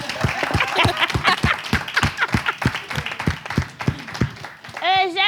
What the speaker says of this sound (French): Applaudissez le parrain.